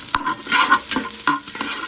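Finely chopped carrots sautéing in a hot pan, loud close sizzle broken by several quick stirring scrapes, no voices.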